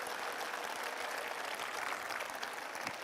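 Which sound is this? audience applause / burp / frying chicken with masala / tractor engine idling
audience applause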